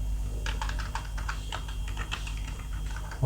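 Rapid keystrokes on a computer keyboard while writing React code, an uneven run of close, crisp clicks across the whole stretch, with no voice over them.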